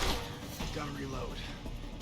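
A weapon reload in the video game Deus Ex: Human Revolution produces brief mechanical clicks and sliding clacks, half buried under a dense wash of game noise and a talking voice.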